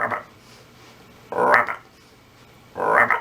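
A voice imitates a frog by making croaking sounds while breathing in, with three separate croaks spaced apart and recorded close and fairly clear.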